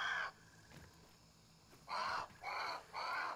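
A bird squawks in the survival video game Grounded, with four harsh cawing calls, one at the start and then three in quick succession, over a faint ambient game background.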